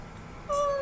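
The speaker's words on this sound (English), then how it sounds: "in the room where you could hear the cat meowing" A house cat's brief meow from inside a room, one short, clear, fairly close call over a low background hum.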